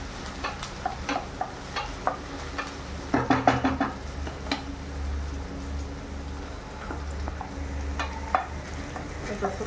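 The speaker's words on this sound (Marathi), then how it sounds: "गॅस थोडा फास्ट करूया कांदा फ्राय व्हायला." Sliced onions frying in a pan over high heat, with a close, steady sizzle broken by repeated spatula scrapes and knocks, busiest in the middle stretch.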